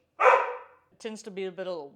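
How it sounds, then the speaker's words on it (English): A dog gives one sharp, close bark, followed by a person speaking briefly in a quiet room. "woof, says Tux the dog"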